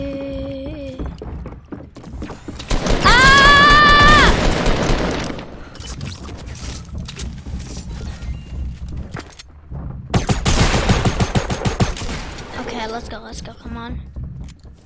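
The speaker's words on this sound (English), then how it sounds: "I hear lots of people with a shotgun." Rapid bursts of shotgun fire and gunshots ring out in a Fortnite battle royale match, with loud clusters of shots mid-clip, footsteps and other game effects between them, and a player talking over the action.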